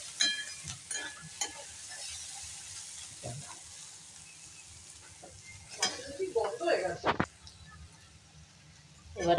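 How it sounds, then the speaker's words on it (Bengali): A spoon stirs and scrapes through poha with boiled potatoes and carrots frying in a pan, giving soft sizzling and a few louder clattering stirs toward the end. "এখন উপর থেকে আর এক দুবার একটু এরকম নেড়ে দেবো"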